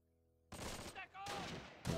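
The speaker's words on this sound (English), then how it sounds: "I'm hearing MG fire from where?" Machine gun fire in the WWII tactics game Close Combat at Pointe du Hoc, sustained rattling bursts after a quiet start, fairly loud and dense with a brief dip midway, mixed with battle noise.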